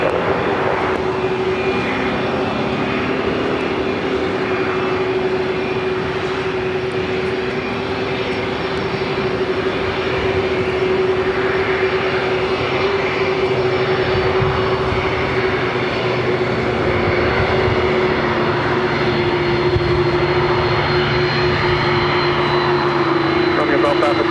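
A jet airplane takes off from runway 25 right at Los Angeles LAX airport, its engine roar steady and loud throughout, with a sustained whine, while air traffic radio chatter plays over it.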